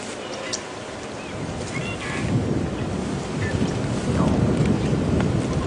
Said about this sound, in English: I'm hoping that the wind that's blowing, that you can hear so strongly, is going to blow these clouds away for good.